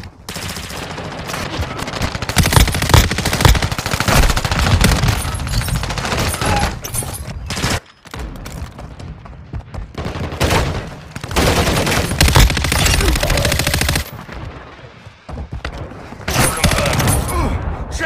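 Multiplayer firefight in Call of Duty Warzone Mobile: dense, loud automatic gunfire and overlapping bursts nearly nonstop, broken by brief lulls near the middle and end, with thumps mixed in.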